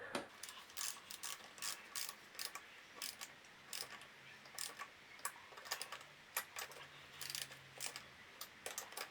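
A ratchet tightens the engine bolts of a Stage 6 70cc Sports Pro MK2 in a diagonal pattern, giving quiet, rapid clicking pawl bursts in repeated short strokes with no talk.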